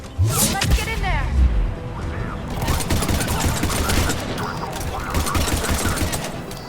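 Dense, continuous gunfire rattles at a checkpoint in the Mass Effect 3 video game, with rapid overlapping bursts and booms at a steady high level throughout while voices talk over the shooting.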